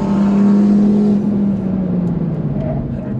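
Audi RS3 accelerating on a race track, a loud, sustained engine drone that holds steady and then fades slightly, with no speech.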